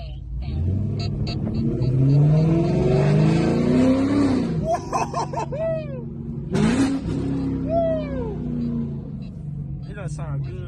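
Supercharged LT4 engine in a Chevrolet Camaro ZL1 revving hard from inside the car, loud rising and falling engine howl with gear changes and whining sweeps, while occupants talk and exclaim over it.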